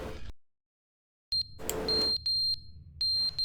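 Repeated short high electronic beeps from a smoke detector in the video game The Stanley Parable, sounding in quick bursts with brief gaps over a low background hum, after a moment of near silence.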